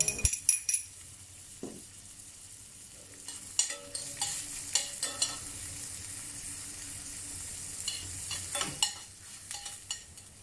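Minced ginger and garlic sizzle in a pan for a Korean fried chicken sauce, a soft steady fry punctuated by scattered clinks and scrapes of a utensil stirring against the pan.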